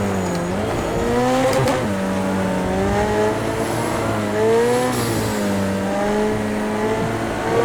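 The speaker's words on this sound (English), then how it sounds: "That turbo spool up is badass sound." A turbocharged road car in the racing game Project CARS 2 revs hard on track, with the engine note rising and falling through gear changes and a high turbo whine and whistle laid over the loud, continuous drone.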